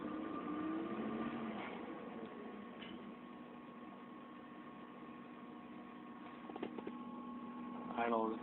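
Mazda Miata engine idling evenly after a Walbro fuel pump swap, a faint steady low hum with a few small clicks and a brief voice near the end.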